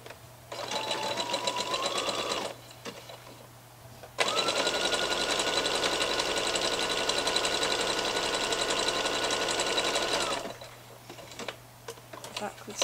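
A sewing machine runs along sweatshirt cuffs in two bursts, a shorter two-second run, a pause, then a longer six-second stretch of steady whirring stitching, with a faint low hum and small handling sounds between.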